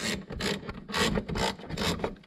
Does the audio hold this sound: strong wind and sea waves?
no